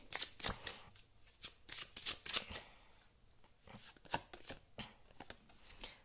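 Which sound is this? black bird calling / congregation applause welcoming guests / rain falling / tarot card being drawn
tarot card being drawn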